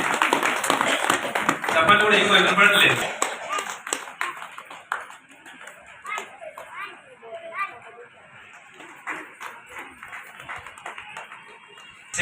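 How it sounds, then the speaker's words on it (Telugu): A short burst of crowd clapping at a Ratha Saptami celebration at the Vasavi temple in Devarakonda fades after a few seconds, leaving scattered taps and a speaker talking over a murmuring gathering. "చప్పట్లు ఒక్కసారి."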